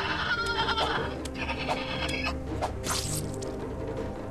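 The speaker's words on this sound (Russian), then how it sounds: "только вот эта вот корова тут явно мешается" A cow creature in the video game Starbound gives repeated bleating, bellowing calls one after another over a low game backdrop.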